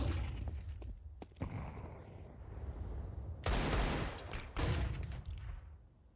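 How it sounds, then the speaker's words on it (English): Rapid bursts of AK rifle fire in a Counter-Strike match, loud and close, clustered volleys with brief gaps and a sustained spray near the end, heard alone without talk. "Zaz's turn with the Hero AK."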